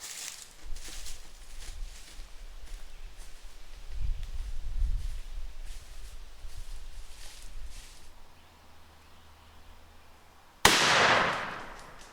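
A single sharp 20 gauge shotgun blast fired at a target rings out loud and close near the end, following a stretch of quiet outdoor background with some low rumbling.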